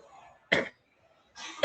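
Two sharp coughs from a person during a League of Legends collegiate esports broadcast, close and fairly loud, separated by a short quiet gap with faint background murmur before the first.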